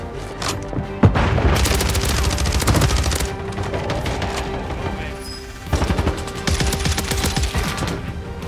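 Gunfire in Warzone Rebirth Island, loud bursts of automatic fire and sharp single shots crackling in dense clusters, pausing briefly before another heavy volley.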